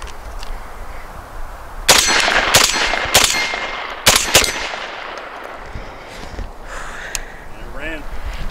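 Rifle shots from Winchester Universal ammunition fired in quick succession, about five sharp loud cracks with ringing clangs, then a pause and faint trailing sounds, with no talk during the shots.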